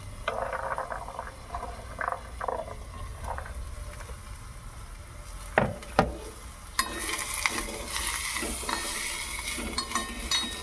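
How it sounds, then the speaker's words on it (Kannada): Onion, peas, carrots, beans and capsicum fry in a pan, a low sizzle under scraping and clinking stirring strokes, a few sharp knocks against the pan, and louder hissing near the end. "ಇದನ್ನು ಚೆನ್ನಾಗಿ ಫ್ರೈ ಮಾಡ್ಕೊತಾ ಇದ್ದೀನಿ ಫ್ರೆಂಡ್ಸ್"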